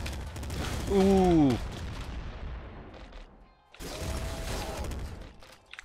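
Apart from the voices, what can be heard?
explosions in a video game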